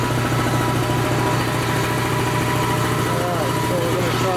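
A Dayton Speedaire 7.5 hp air compressor runs and pumps with a loud, steady, droning motor hum and rhythmic pulsing that continues throughout, with a person talking over the machine.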